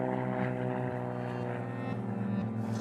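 Propeller mail plane at a remote Australian outback airfield, a steady droning engine hum with a low throbbing tone, sustained and fairly distant with no talking.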